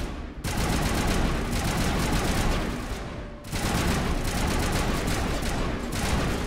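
Turret gunfire in the Mass Effect Legendary Edition video game, dense rapid bursts loud and close, broken by two brief gaps before resuming in sustained volleys.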